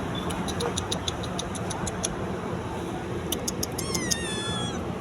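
A cat gives a single drawn-out meow near the end, after a run of quick, high ticking clicks in a quiet room.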